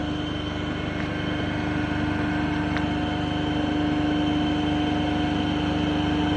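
A DC shunt motor runs steadily at its rated 1500 rpm, giving off a constant, even hum and whine with no change in pitch.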